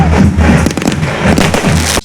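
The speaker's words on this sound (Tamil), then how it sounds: "அந்த பட்டாசு வெடி இது கொஞ்சம் பாருங்கள், பயங்கரமாக இருக்கும்." Firecrackers bursting at the Pachaiyamman temple festival, a dense, loud run of overlapping pops and booms with a continuous crowd rumble underneath and no clear gaps.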